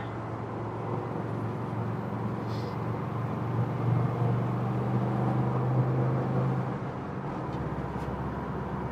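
A 1971 Volkswagen Westfalia Campmobile drives along with a steady low engine hum and road rumble heard from inside, fading slightly near the end.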